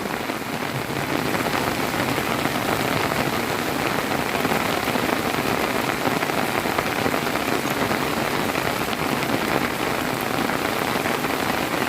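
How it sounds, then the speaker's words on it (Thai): Steady, heavy rain pours down on surfaces outdoors in a hot, dry rural area, a dense continuous hiss that stays loud and even from start to finish with no voices. "เมื่อนี้กับฝนตกเนาะ"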